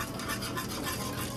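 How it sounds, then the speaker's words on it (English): Spoon stirring cocoa powder into a cup of hot chocolate, a steady close scraping and swirling rub that runs the whole time at low level, with no talk. "Just gonna mix it up."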